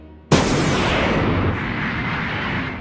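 A sudden loud cannon blast in a One Piece anime scene erupts after a short quiet lead-in, followed by a long rumbling roar that slowly fades.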